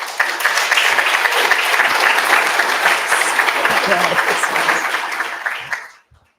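An audience applauds to welcome a speaker at a leadership talk, with sustained, dense clapping that holds steady for about six seconds and then fades quickly into silence.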